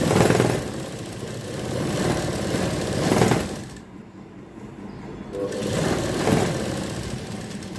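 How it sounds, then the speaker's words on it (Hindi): A sewing machine runs in two bursts with a quiet pause between them as it stitches a folded two-inch fabric strip on a baby frock, the motor hum close and steady. "फोल्ड करने के बाद हमें यहाँ पर इस तरीके से स्टिच लगानी है"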